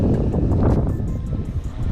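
Wind rushing past the microphone in a steady, blustery roar while fishing, with a few faint ticking sounds over it.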